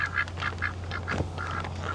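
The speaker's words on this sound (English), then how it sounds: "The duck is still here." A duck quacks in a short, regular series of nasal calls, moderately faint, over a steady low hum.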